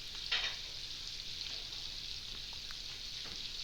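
Steady hissing sizzle of onions frying in a hot pan with sprat curry, curry leaves and green chilies, with occasional light crackles and stirring sounds throughout.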